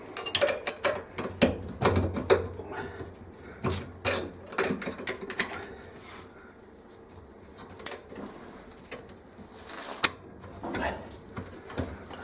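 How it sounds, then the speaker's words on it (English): Metal clips snap and click back onto a washing machine motor during a Kenmore motor coupler repair, with irregular close clacks and rattling handling noises, some louder snaps, and occasional quiet pauses. "I'm going to put these clips back on, hold the motor."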